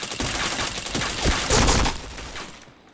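Gunfire in a shooting video game: rapid bursts of shots crackle in quick succession, rising to a denser volley near the middle before tailing off, moderately loud with no talk.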